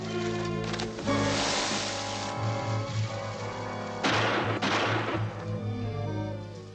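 Two loud gunshot bangs, a few seconds apart, in a 1957 zombie film, heard over a continuous dramatic music score.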